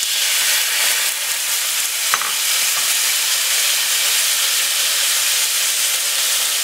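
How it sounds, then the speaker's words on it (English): Tuna steak searing in a hot pan as marinade is added, giving a steady, loud broadband sizzle throughout with one brief sharp spike partway through and no talking. "our tuna is just about finished on this side. I'm going to take our marinade and put just a little bit in."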